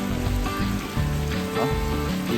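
Rain falling steadily on a surface during a motorcycle journey on a Yamaha Tenere 700, a dense continuous patter with a low rumbling background, no voices.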